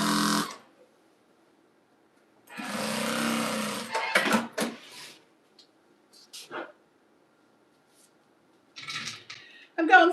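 A sewing machine stitches a jelly roll rug in short close bursts, with a longer run, clicks and handling noises between stretches of quiet.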